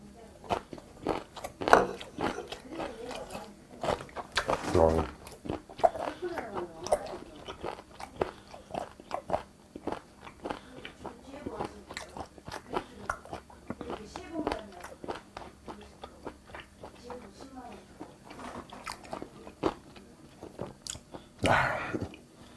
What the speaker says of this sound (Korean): 오돌뼈 먼저 씹어주고